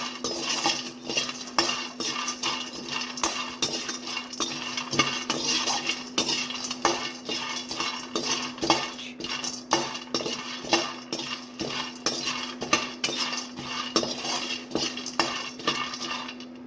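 Steady scraping and clinking of a utensil stirring nuts roasting in a metal pan for ragi laddu, with a rapid irregular rhythm continuing throughout, close and moderately loud.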